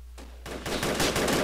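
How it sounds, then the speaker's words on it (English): Gunfire in the military shooter game Project Reality: a loud sustained burst of rapid automatic shots rolling into dense overlapping fire, harsh and close, with no talk over it. "Open fire on him."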